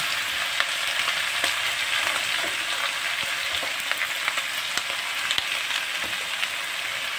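Garlic frying in a pan gives a steady, close crackling sizzle with scattered sharp pops and light clicks, continuous throughout with no voices.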